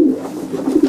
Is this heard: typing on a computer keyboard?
no